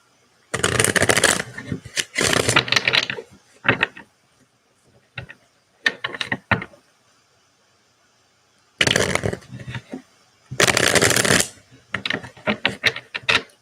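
Tarot cards are shuffled by hand in several loud, close bursts of riffling flutter separated by quiet pauses, with a few soft taps between.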